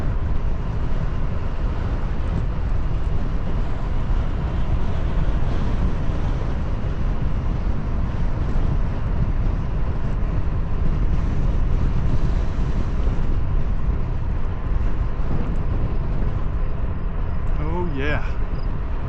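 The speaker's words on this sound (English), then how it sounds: "that wind feels good" Steady roaring wind buffeting the microphone of a cyclist riding a trail loop from Clairton to Pittsburgh beside swampy ground, continuous and loud throughout, with brief talk near the end.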